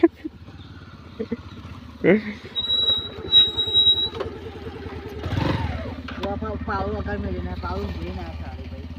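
A motorcycle engine idles and revs, then pulls away with the sound fading, while people talk close by.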